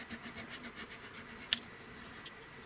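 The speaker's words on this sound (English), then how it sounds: "So this is just an emery board. Just a piece of sanding paper." An emery board rubbed against a puzzle piece, a quiet rhythmic scratchy rasp of repeated short strokes with one sharper tick midway.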